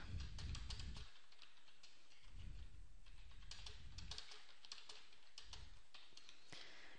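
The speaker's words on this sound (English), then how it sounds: "So if I type some text" Typing text on a computer keyboard in Word 2007: a near, quiet run of light key clicks, fast and uneven, in bursts separated by short pauses, with no talk.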